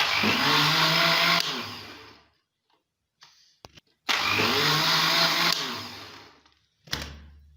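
A kitchen blender churns cream into homemade butter with cold water added, whirring loudly for about two seconds, stopping amid soft clicks, then running again for a longer burst before a final short pulse.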